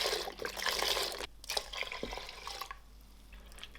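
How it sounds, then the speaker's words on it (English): Vegetable stock and water pour into a pressure cooker for pea and ham soup, a splashing liquid rush that eases off after about a second and then continues as quieter trickling. "Throw in the bay leaves, add in the vegetable stock and water."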